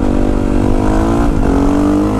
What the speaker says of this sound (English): maybe I should do a little wheelie first